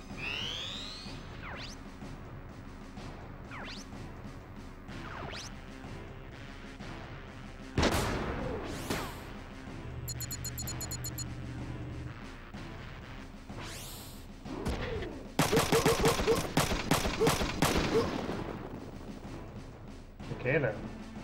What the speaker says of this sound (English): still end up getting wrecked by the artillery strike